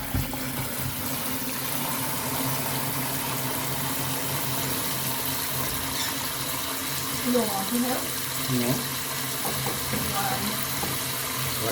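Tap water runs steadily throughout, a constant rushing hiss with occasional clinks and splashes of washing.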